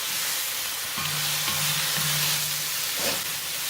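Shrimp lo mein with seasoning being stirred in a hot pan, giving a steady broadband sizzle with a few scraping stirs and a low hum underneath, no voices.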